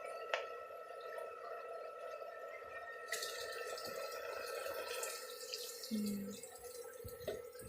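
Water runs from a tap into a cooking pot while preparing pinakbet, a faint steady stream with occasional splashes and clinks.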